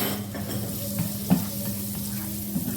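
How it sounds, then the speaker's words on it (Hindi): Two cloves of chopped garlic sautéing in about two spoons of oil, a steady soft sizzle with a low hum beneath and a few light clinks of a spoon stirring in the pan. "अब हमने 2 चम्मच के करीब ऑयल लिया है और ये 2 जवे हैं लहसुन के, इसको मैंने चॉप कर लिया है। इसको हम हल्का सा सौते करेंगे"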